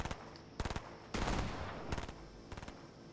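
Gunfire in Fortnite at Tilted Towers comes as short bursts of rapid shots, several clusters of sharp cracks with a louder blast in the middle, fairly faint overall.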